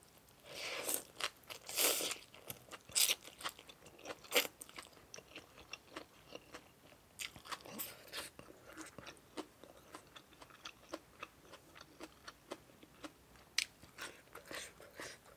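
Crunchy bites and wet chewing repeat in close, irregular bursts while someone eats Thai rice noodles (khanom jeen) with spicy canned-fish curry, cha-om and fresh vegetables. There is no talk.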